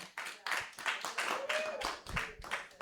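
A comedy club audience claps as a comedian walks on stage, a scattered round of applause heard alongside talking.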